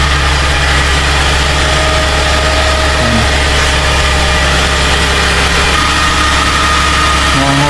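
A Suzuki Vitara engine idles loudly and steadily up close, a constant low rumble with a slight shift in pitch partway through as the idle settles.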